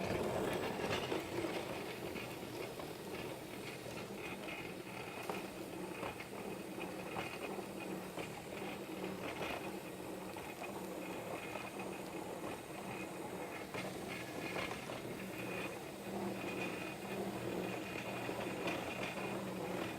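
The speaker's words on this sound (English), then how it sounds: "Let's start the vacuum." A vacuum runs alongside a polishing machine working a self-leveling concrete overlay, giving a steady, even broadband drone for the full twenty seconds, moderately faint and with no talking.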